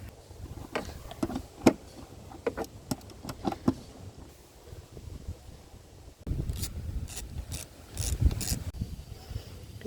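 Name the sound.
ratchet removing bolts on 2015 Toyota Hilux timing cover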